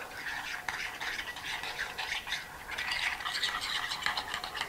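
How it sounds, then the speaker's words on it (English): Ingredients for a Mexican street corn topping are stirred together with lime juice in a bowl, giving a steady, close scraping and mixing rustle that continues without pause. "we're gonna mix this all together"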